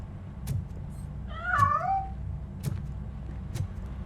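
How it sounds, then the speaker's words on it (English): A cat in the Robocop: Rogue City video game lets out a single drawn-out, wavering meow at mid-clip, while sharp ticking clicks recur at intervals over a low background rumble. "That cat must be hiding inside."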